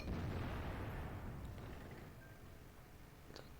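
A tank cannon shot in World of Tanks bursts out as one heavy boom that rumbles and slowly decays over a few seconds, with a faint click near the end.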